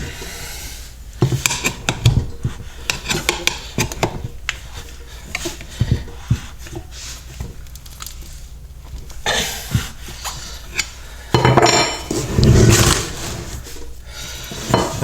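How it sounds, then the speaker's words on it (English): A brake disc is worked loose and pulled off a vehicle with a run of close metallic knocks, scrapes and clanks, irregular and bursty, loudest near the end. "I probably ought to pop the brake disc off of this."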